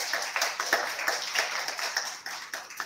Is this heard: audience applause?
yes